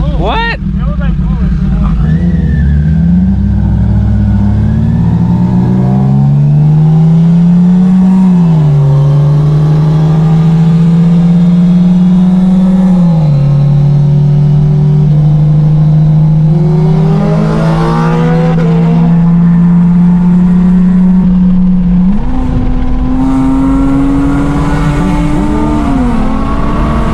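Straight-piped Lexus engine on a night drive, loud and close throughout, droning and rising through revs with sweeping pitch changes and throttle blips, while people talk over it.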